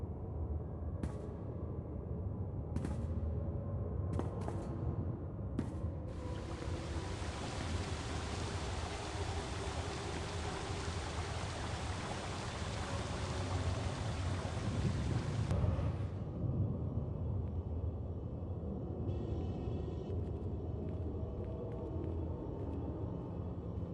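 A storm sounds in a game scene, with heavy rain and wind rising into a dense, loud roar that lasts for about ten seconds and then drops away. A few sharp cracks come before it, and fainter sounds follow.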